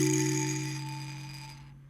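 A single sustained Omnisphere synth tone from a lo-fi hip-hop beat, a bright bell-like chord with shimmering overtones that fades smoothly to silence over about two seconds, heard alone.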